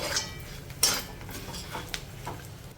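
A spoon scrapes and clinks in a pan while mutton pepper fry is stirred with spices and salt over a low flame, a soft, close scraping with a few sharper metallic knocks.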